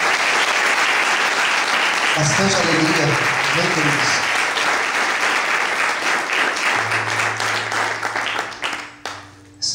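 A church congregation applauds loudly and continuously, with a voice speaking over the clapping before the applause thins out and fades near the end.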